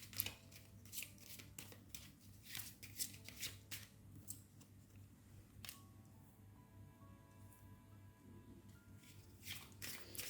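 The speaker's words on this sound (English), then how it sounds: "So let me shuffle your card." Tarot cards are shuffled repeatedly in quick, papery riffles and slides, quiet and close, with a faint hum in the background.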